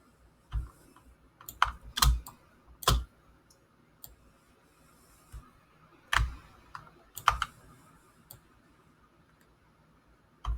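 Keyboard keys pressed in scattered bursts, with sharp close clicks arriving singly and in quick pairs, separated by quiet gaps while someone works with a pen tool in design software.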